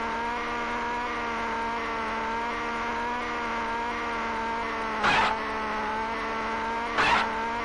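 A car engine in the Amiga game City Cars drones with a steady, buzzy, even pitch as it speeds along, broken by two short bursts of noise, probably tyre skids, near the end. No one talks.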